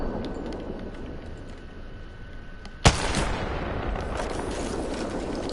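A single sharp, loud crack of a Kraber sniper rifle going off in the shooter game Apex Legends, followed by a sustained rumbling wash over steady background game noise.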